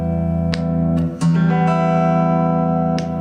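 Electric guitar with its pickups switched to double coil mode, a few plucked notes and chord strikes ringing out loud and close with long sustain over about three seconds, no talking.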